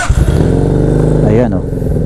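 A Fekon 3GP motorcycle engine starts with a mechanical key and settles into a close, loud, throbbing idle with a brief rise in pitch, while someone talks over it.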